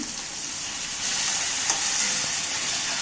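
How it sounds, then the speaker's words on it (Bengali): Potatoes and bottle gourd shoots frying in a pan, a dense continuous sizzle that grows slightly louder partway through, with faint stirring clinks, close and steady without voices. "এবার আলুগুলোকেও দিয়ে দেব দিয়ে একটু নেড়ে চেড়ে"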